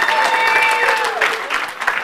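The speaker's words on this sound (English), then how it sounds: "So everyone give Alan a big round of applause" An audience at a pitch competition gives a dense, loud round of applause for a helper in the crowd, with a voice speaking over the clapping and a sustained tone early on.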